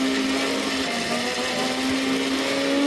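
A mixer grinder run in short pulses grinds chutney powder with curry leaves and garlic, a loud steady whirring drone with a constant motor hum throughout and no talking.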